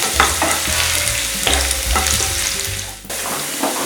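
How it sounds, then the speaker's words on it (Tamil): Ginger and garlic hitting hot oil in a pan, a loud, dense sizzle with stirring scrapes and bursts of spatter, close and continuous, with no voices. "இப்போ இந்த இஞ்சி பூண்டை நம்ம அதில் போட்டுடலாம். கொஞ்சம் ஃப்ரை ஆகட்டும்."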